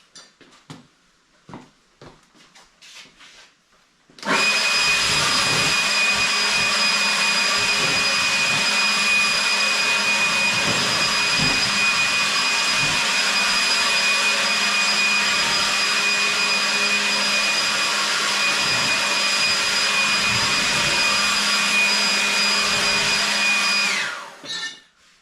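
A Magna Matic air purifier in a metal shop sucks in dust from dry metal grinding, a loud, steady roar with a whining tone that starts abruptly, runs unbroken for about twenty seconds, then cuts off.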